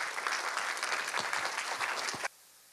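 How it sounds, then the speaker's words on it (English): An audience at a scholarship award ceremony applauds a speaker with a dense, even wash of clapping from a crowd that stops abruptly, leaving quiet room tone. "Ladies and gentlemen, a round of applause for Dr."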